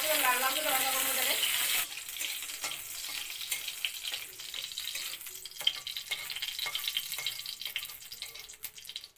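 Two or three dry red chillies fry in a little oil in a wok, sizzling steadily up close, with occasional stirring scrapes and a faint voice speaking at the start.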